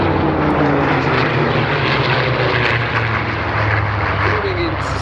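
Griffin-engined Spitfire flying at the Sywell airshow, a loud sustained piston-engine drone with propeller roar and a slowly shifting pitch, close and continuous throughout.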